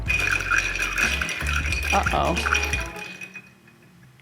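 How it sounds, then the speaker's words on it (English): A bar spoon stirs ice in a mixing glass for scotch, a steady close rattling and clinking of cubes against glass that fades toward the end, with a brief spoken exclamation partway through. "Use a bar spoon to stir until mixing glass feels ice cold."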